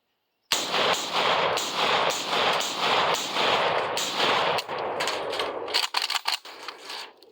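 A PSA AKP AK-47 rifle with its original muzzle brake fires a rapid string of loud, close shots in steady rhythm for about five seconds, followed by a few scattered clicks and handling noises.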